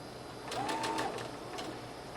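A sewing machine stitching a dress seam, a brief soft whirring run forward and then in reverse, with quiet needle ticks and a faint whine close by.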